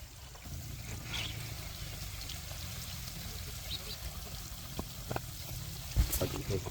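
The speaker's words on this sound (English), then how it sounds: "Water will flow through the bottle and exit through the small holes" Faint, steady trickle of water flowing from small holes in a plastic bottle onto plants, pouring and dribbling, with a few light splashes near the end, quiet and close.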